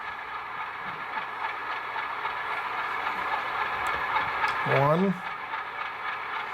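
A Rapido HO scale RS-11 diesel model locomotive with DCC and an ESU LokSound decoder runs in reverse, its steady engine drone filling the background while a man counts aloud over it.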